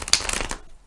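Rider-Waite tarot cards, a smaller deck, riffle and slide together in a quick burst of close papery flutter that ends abruptly into near silence.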